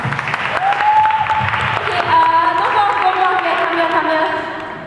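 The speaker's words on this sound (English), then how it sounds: "Can we all give them a round of applause?" An audience applauds after a band's live performance, dense sustained clapping with faint cheering, fairly loud and close, with lingering sustained tones and some talk mixed in.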